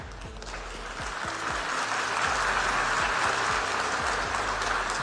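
Audience at a speech by Modi claps steadily, a dense wash of many hands that swells slightly and holds throughout without pause.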